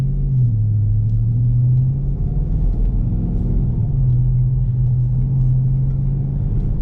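A Volvo car's engine rumbles steadily while driving, a loud close low drone with a slight pitch dip and rise as revs shift, heard alone without talk.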